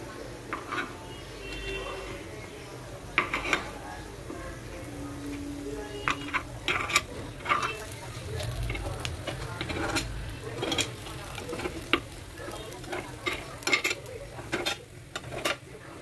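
Appe flipped one by one in a pan while cooking, a string of sharp metallic clicks and light scraping taps at an uneven pace over a low background hum, with occasional faint talk.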